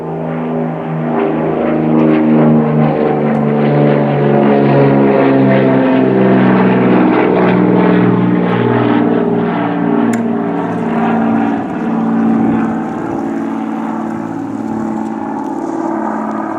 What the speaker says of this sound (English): When I do a video, the planes take off at the same time, always.